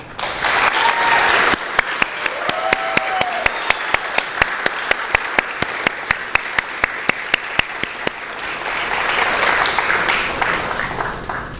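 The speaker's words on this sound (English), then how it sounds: "And so I really would like a lot of applause for Eileen Johansson, Emma Myers, and Lauren Riedel." A college awards ceremony audience applauds the award recipients: sustained, dense clapping with sharp individual claps standing out, swelling again toward the end before fading.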